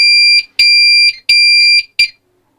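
A Pyronix Enforcer alarm being set gives four loud, piercing electronic tones close by. The first three are long and the last is short, with brief gaps between them.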